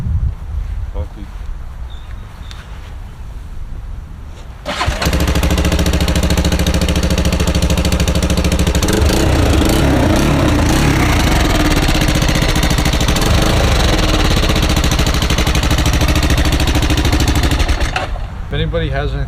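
A quad engine fitted with a new custom exhaust, a faint rumble at first, then running loud and steady from about five seconds in until it tapers off near the end.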